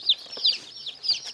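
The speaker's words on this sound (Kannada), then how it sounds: "ಇದು ಗಿರಿರಾಜ ಮರಿ, ಇದು ನಾಟಿ ಮರಿ." One-day-old Giriraja and native chicken chicks cheep in a quick series of high, sharp peeps, about four close calls in a short burst, with no talking.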